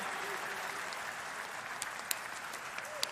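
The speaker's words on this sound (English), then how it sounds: "They're clapping for you" An audience at an LSU basketball press conference claps in a steady, fairly faint patter, with a few sharper individual claps standing out near the end.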